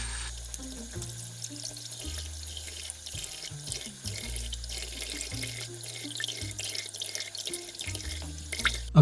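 Tap water runs steadily into a bathroom sink while a face is rinsed, with splashes and shifting gurgles as hands cup and release the water, heard close and without talk.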